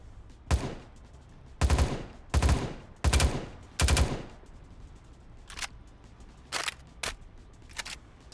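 FAMAS rifle fire in the game BloxStrike sounds as sharp bursts of shots: a single crack, then several quick loud volleys, followed by fainter, lighter pops.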